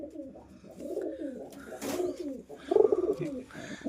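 Pigeons in a breeder's loft coo in repeated soft, throaty rolling phrases, fairly close and continuous, with a brief louder flurry near the end.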